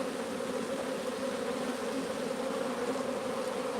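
Honeybees buzz at a beehive in a dense, continuous drone, close and steady throughout with no talk.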